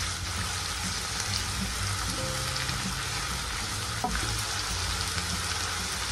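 Garlic, onion and tomatoes frying in a pan, a steady loud sizzle with faint stirring clinks throughout, no talk.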